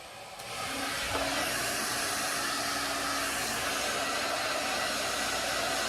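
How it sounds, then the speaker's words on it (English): A hot air brush blows steadily while a wig is blow dried, a constant loud whooshing roar that starts after a brief lead-in and holds unbroken, with no talking. "I am gonna take my hot air brush and I am just gonna blow dry this back just a little bit"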